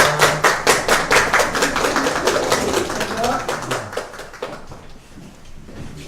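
Audience clapping at a Gyeonggi police live event, starting as a loud rhythmic series of sharp claps, then loosening into scattered applause that tapers off, with a voice briefly audible underneath.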